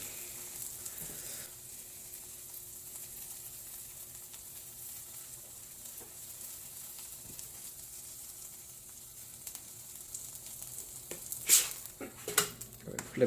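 A bacon and cheese quesadilla sizzles gently in a pan while it browns, a soft steady hiss that stays faint throughout, with a few louder clatters near the end.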